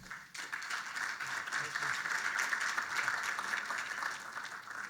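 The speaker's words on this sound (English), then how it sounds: "let's set a little applause for that, please." Sustained applause from an audience, a steady dense wash of clapping lasting several seconds, fairly distant and even in loudness.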